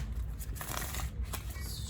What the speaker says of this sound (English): Let's shuffle a bit more.